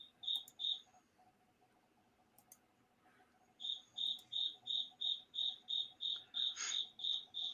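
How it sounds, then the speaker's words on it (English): Crickets chirp in a basement with a clear, regular string of sharp pulses, near and steady. A brief pair opens the stretch, then a quiet gap, then an unbroken run of chirps. "You have the crickets chirping."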